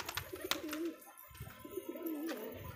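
A young pigeon chick coos inside a pigeon house, two clear warbling calls separated by a pause, close and moderately loud, with light rustling and clicks around them.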